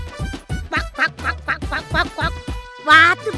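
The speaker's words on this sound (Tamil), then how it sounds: "வாத்து பொம்மை." A toy duck quacks several times in quick bursts, close and clear, with a voice talking and cooing over it throughout.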